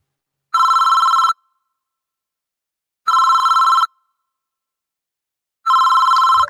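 A telephone rings in three identical electronic trills, each lasting under a second, spaced evenly about two and a half seconds apart with silence between them.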